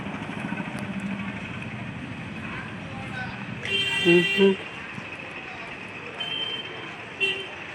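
An auto rickshaw idles with a low engine hum amid street traffic, its horn tooting a couple of short blasts midway and once more near the end, with people talking nearby.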